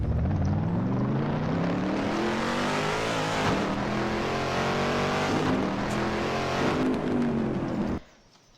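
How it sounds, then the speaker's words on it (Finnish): Car engine in Garry's Mod, likely an American muscle car, revving and driving with a loud, continuous droning roar that rises and falls in pitch through several gear shifts before cutting off abruptly near the end. "mutta tässä on nyt tän auton ääni"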